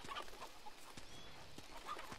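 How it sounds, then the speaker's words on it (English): A chicken clucks in the Uncharted 2 video game, a few short, soft clucks scattered over a faint, steady background. "Chicken!"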